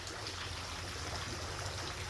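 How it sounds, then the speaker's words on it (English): A small waterfall feature on an aquaponics setup gives a steady close trickle and splash of running water with no break. "So it looks like we have our little waterfall feature."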